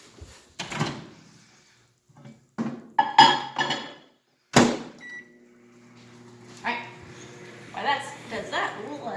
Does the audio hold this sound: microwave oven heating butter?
yes